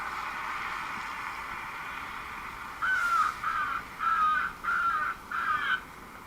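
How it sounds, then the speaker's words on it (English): An airport safety vehicle at Dublin Airport broadcasts recorded crow caws to scare birds, a series of five harsh, evenly spaced calls over steady wind and rain noise. "safety vehicle behind me, playing its bird scaring noises"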